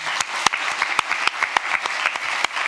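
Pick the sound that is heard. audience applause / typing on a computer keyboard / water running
audience applause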